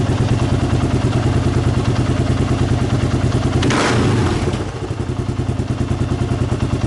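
A Kawasaki KLR 650 with a Mikuni carburetor idles loudly and steadily up close, then gets one quick crack of the throttle that briefly swells the engine note before it settles back to a lumpy idle.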